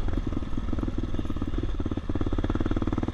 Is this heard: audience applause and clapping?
no